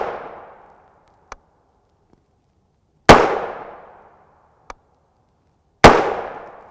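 Two loud, sharp gunshots from a 5.7x28mm pistol fired with Noir brass, each followed by a ringing decay of about a second, with fainter clicks of handling between the shots.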